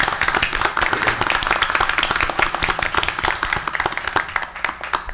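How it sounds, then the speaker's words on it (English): A room full of people gives a round of applause at a city council meeting, dense continuous clapping that holds steady and then tapers slightly toward the end, with no talking. "Let's give them a round of applause."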